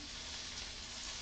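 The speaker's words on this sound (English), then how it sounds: "Jen says she loves the sizzle." Chinese long beans frying in a hot pan give off a steady, dense sizzle, a continuous bright hiss that stays constant throughout with no pauses.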